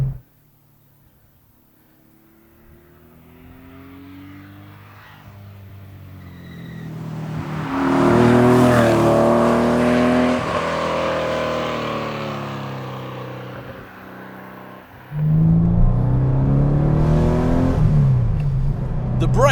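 An air-cooled Porsche 964 911 fast road build is driven from inside, its flat-six climbing through the revs with a rising, harmonically rich tone, easing off, then pulling hard again near the end, loud and close.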